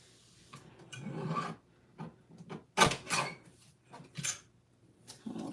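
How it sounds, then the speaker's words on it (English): Paper edges being trimmed on a paper trimmer for a holiday card craft kit, heard as several short rasping slides and cuts in quick bursts, close and fairly quiet with no talking. "We're gonna flip that over and trim off those edges."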